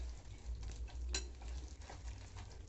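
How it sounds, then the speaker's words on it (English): Zucchini pancake batter is stirred in a bowl with soft, faint scraping and wet patting, plus one brief utensil clink against the dish. "So we mix them together."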